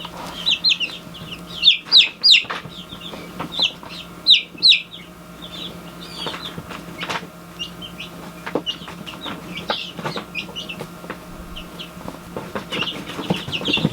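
Bantam and standard buff Orpington chickens cluck nearby, with sharp bursts of clucking early on, then softer scattered clucks and rustling over a quiet background.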